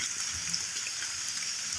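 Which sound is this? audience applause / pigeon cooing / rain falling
rain falling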